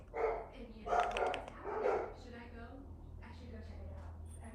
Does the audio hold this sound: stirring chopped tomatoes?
no